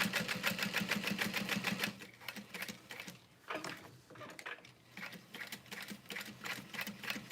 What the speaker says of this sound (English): All right, so then I'm going to top stitch along the outer edge.